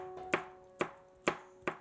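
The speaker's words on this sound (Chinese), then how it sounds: "切一点小米椒" A knife chops small red chili peppers on a cutting board: four sharp, evenly spaced strikes, close and crisp, with no talking.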